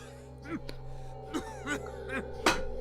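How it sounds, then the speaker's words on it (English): A character in the video game Pillars of Eternity coughs violently in a series of harsh bursts, about five quick rough coughs, fairly quiet over a low steady background hum. "But all that emerges is a series of violent coughs."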